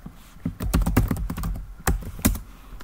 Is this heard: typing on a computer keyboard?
yes